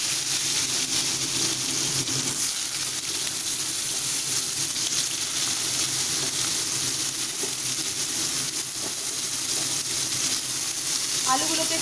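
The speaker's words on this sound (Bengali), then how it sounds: "তেল গরম হয়ে গেছে, এবার আমি আলুগুলোকে ছেড়ে দিচ্ছি।" Potatoes fry in hot oil in a pan, giving a loud, continuous, close sizzle and crackle that holds steady from start to finish.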